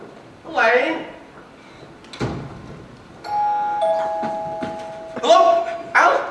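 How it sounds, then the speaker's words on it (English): A doorbell chimes in a school stage production of Arsenic and Old Lace, its clear two-tone ring sounding twice and cutting across a few spoken lines and some stage bustle. "That's the doorbell, dear, not the telephone."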